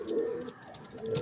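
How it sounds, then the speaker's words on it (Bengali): A female pigeon in a loft gives a brief, quiet rolling coo, pausing and then resuming, with no voices. "এটা হলো মাদি পায়রাটা, ওই নরের মাদি এটা"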